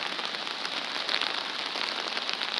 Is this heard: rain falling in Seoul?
yes